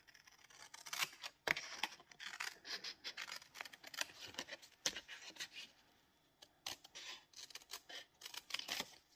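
Scissors cutting through a paper card for handmade card making, a series of close, quiet snips and crisp rustling cuts in irregular bursts with brief pauses.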